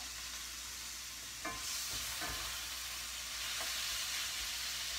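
Ground beef browns in a pan, with a steady sizzle and a few soft scrapes of a spoon stirring the meat midway.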